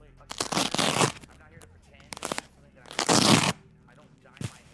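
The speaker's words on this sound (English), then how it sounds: "That is the sound of a Velcro wallet opening." Loud ripping tears of a Velcro wallet being pulled open, several harsh crackling bursts in a row, close to the microphone.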